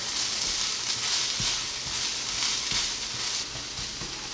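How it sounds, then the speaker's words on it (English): Zucchini noodles sizzle steadily in a hot pan for a vegan spaghetti, a broad, even hiss with a few soft clicks and clatters, moderately close and alone without talk. "And then I'm gonna put in my zucchini noodles."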